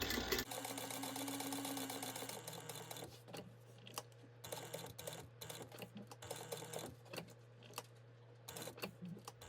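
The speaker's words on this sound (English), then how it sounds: "you're going to sew this together" A sewing machine stitches a seam on a customised bag, sewing at 1/8 inch with backstitching at each end. A steady mechanical whir runs throughout with irregular clicks and pauses, close and fairly quiet, with no talking.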